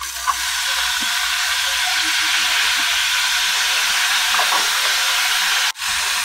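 Broccoli in a hot pan produces a loud, continuous steamy hiss that carries on almost unchanged, with faint stirring scrapes underneath. It cuts off abruptly near the end.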